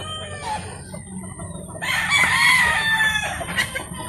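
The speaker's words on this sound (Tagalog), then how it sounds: "Yan ang aming manukan." Chickens in a coop: low clucks and murmurs first, then a rooster lets out a loud, close crow that rises and holds for about two seconds, with more clucking around it.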